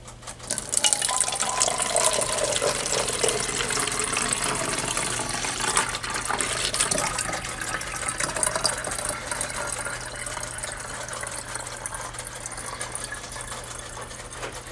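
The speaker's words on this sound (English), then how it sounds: "we're gonna fill it up with water." Water pours steadily into a plastic ReptiFogger bottle, a loud, close, continuous splashing rush that keeps its level for about fifteen seconds with faint rattling of the container.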